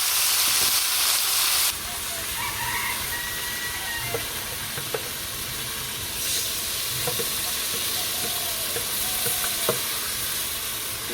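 Chicken pieces stir-fry with onions in a pan for a village-style chicken curry: loud, steady sizzling and hissing close by, broken by occasional scraping stirs, with no one talking.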